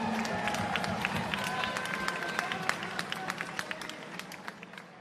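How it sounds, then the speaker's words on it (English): Crowd applause and cheering fill an arena at a Caged Aggression cage-fighting event in Iowa, a dense steady wash of many hands with sharp individual claps standing out, carrying on for the whole stretch. "Let's give her a round of applause"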